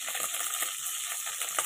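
Mustard seeds crackle and splutter in hot oil in a kadai with curry leaves, a faint, dense run of quick pops and sizzle over a few seconds, no voices.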